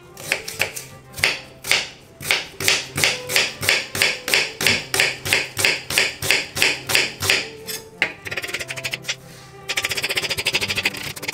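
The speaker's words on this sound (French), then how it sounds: "Tout d'abord, je vais émincer l'oignon." A knife slices a halved onion on a cutting board into thin slices, a rapid, even series of crisp chops, close and fairly loud, then a pause and some rustling scrapes at the end.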